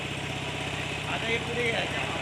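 A Mahindra Paddy Walker 6-row rice transplanter engine idles in a steady, even putter close by, while someone talks over it.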